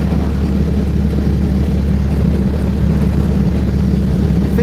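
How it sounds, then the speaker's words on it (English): An old car engine warming up drones loudly and steadily, a low rumbling hum with wind-like noise, running continuously up close. "I think my engine's getting warmed up."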